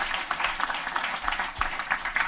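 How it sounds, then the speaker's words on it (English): Steady applause from a crowd at an AI genomics hackathon's final presentations, dense clapping that fills the whole moment with no pauses. "Big round of applause for this team."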